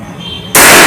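An Indian-made air pistol fires an exploding sound cork: a single sudden loud crack after a quiet stretch of background hiss, its noise sustained and broad to the end of the clip.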